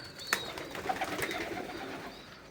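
Fancy pigeons coo softly in a sheltered loft, with a few low warbling calls and brief wing or movement noises, no talking.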